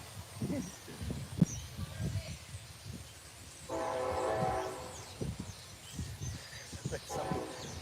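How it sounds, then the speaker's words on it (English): A train rumbles past at a distance with a sustained horn-like tone midway, while people talk intermittently in the foreground. "there's the train."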